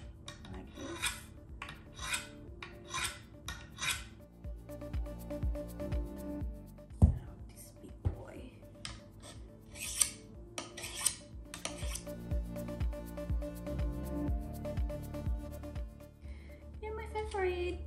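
A Fiskars garden tool blade is sharpened with a file in one direction, producing a series of repeated, close rasping strokes in a steady rhythm, with a few metallic clinks between them.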